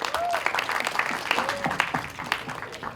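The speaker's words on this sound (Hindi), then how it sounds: "एक बार जोरदार ताली चाहिए" A crowd at a Border 2 movie teaser launch event breaks into loud, sustained applause, with dense clapping throughout and a few whistles rising over it.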